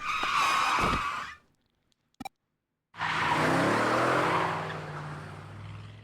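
In the video game Digimon Story Cyber Sleuth, a loud truck tire skid with roaring engine noise, a sudden silence with a brief click, then a long grinding skid and rumbling motor.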